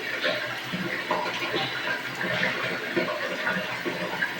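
Water runs steadily at close range, a continuous hissing splash that fills the whole clip, with no speech over it.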